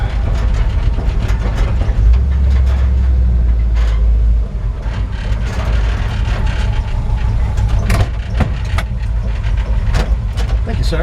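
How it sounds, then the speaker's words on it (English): A 1953 Ford F100 truck's old-style exhaust rumbles loudly and steadily up close, a deep low drone under road noise, with a heavier surge for a couple of seconds and a few sharp clunks. "I love the old school sound of the exhaust"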